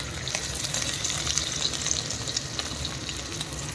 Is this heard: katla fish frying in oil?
yes